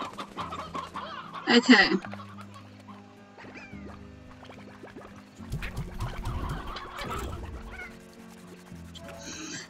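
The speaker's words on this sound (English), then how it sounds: "Where's the rooster? Here you go. 2 roosters." Chickens cluck in the video game Slime Rancher, with a sharp burst of clucking near the start and softer scattered clucks later, alongside game sounds, and a person briefly speaks.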